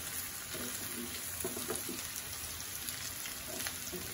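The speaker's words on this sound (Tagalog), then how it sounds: "Kaya saglit mo lang siya ipiprito." Tuna frying briefly in a hot pan, a steady crackling sizzle with scattered pops running throughout at moderate level, no voices.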